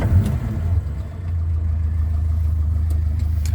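A classic Morris Minor car being driven in Scotland: a steady, low engine drone fills the cabin, rising slightly after a brief dip, continuous and close.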